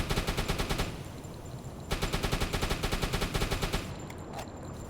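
High-explosive rounds fire from an automatic gun in a naval battle video game. Two loud, rapid bursts come close, one after the other, separated by a short pause, with no speech.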